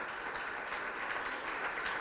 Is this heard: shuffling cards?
no